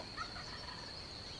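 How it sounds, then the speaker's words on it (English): Wild turkeys gobbling from over a hill during a morning turkey hunt, faint and distant under steady outdoor background noise, a brief louder call rising near the start. "It's like a ton of birds gobbling over the hill."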